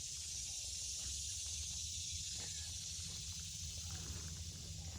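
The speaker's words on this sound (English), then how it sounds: "Over the sound of the cicadas, I just heard another familiar sound." Cicadas droning on an August day, a steady high-pitched shimmering buzz that holds unbroken at moderate distance over a low background rumble, with no voices.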